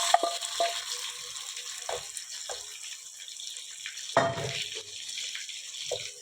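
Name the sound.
onions frying with spices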